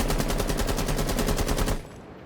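Sustained full-auto gunfire from a rifle fitted with a flash hider in Rainbow Six Siege, a rapid, loud, even stream of shots lasting under two seconds before cutting off abruptly into quiet.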